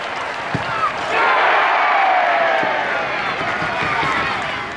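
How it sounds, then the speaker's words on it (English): A football crowd cheers and applauds after a penalty kick in a shootout between Crawley Town and Brighton & Hove Albion U21, a broad swell of noise rising and holding, with commentary-like voices underneath. "a ripple of applause breaks out from the Brighton bench"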